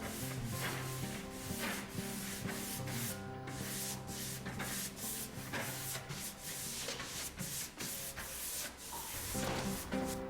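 Light hand sanding over a smoothed, waxed plaster decorative surface, a steady soft rubbing and scraping that continues for the whole stretch at a fairly even level, with no talk.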